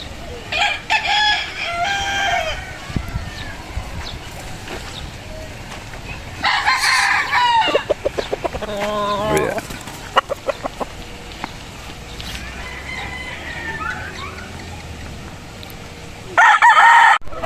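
Backyard chickens and roosters at feeding time, with crowing and clucking bursts scattered across the span, fairly near, over a low background murmur.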